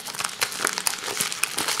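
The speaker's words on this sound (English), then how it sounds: "I'm gonna open it right now using my scissors." Close, continuous crinkling and crackling of a ripped, taped package as it is worked open with scissors, with steady rustling throughout and no voices.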